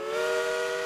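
A single steady train whistle sounds loud and close, a sustained harmonic tone held for under a second.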